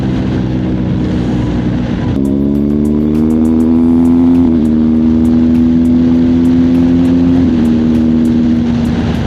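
Motorcycle engine at highway speed above 100 km/h, picked up by a helmet-mounted mic, rising in pitch as it accelerates through gear changes, loud and steady with wind noise, no talking.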